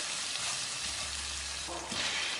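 Boiled chillies being stir-fried with galangal and bay leaves in a hot pan, giving a steady close sizzle with light stirring scrapes, no voices.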